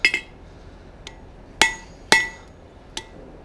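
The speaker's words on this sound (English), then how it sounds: "I'm gonna put this flat, give it some hammer blows." Hammer blows forging a hot-cut chisel bar held in tongs: five sharp metallic strikes with bright ringing, two quick hits at the start, then three spaced blows, close and loud.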